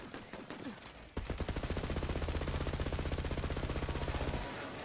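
A Borderlands 3 Magnificent legendary pistol fires a long, rapid, unbroken stream of shots, loud and close, with a scattered burst of gunfire just before it.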